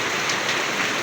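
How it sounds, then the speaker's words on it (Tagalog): Steady rain falls in a dense, even hiss close by, without pause or talk. "Tingnan nyo naman po yung ulan."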